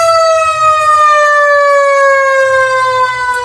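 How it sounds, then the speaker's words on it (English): A fire truck siren wails loud and steady throughout, a strong rising-and-falling tone with a deep engine rumble underneath as the emergency vehicle passes on the road. "Oh no, that's another fire truck."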